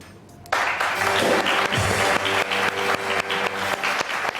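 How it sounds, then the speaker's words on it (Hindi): A studio audience on a Pakistani entertainment show bursts into loud, sustained applause after a half-second pause. The clapping stays strong and close with slight swells, and music plays underneath. "बहुत सारी तालियां इन दोनों के लिए"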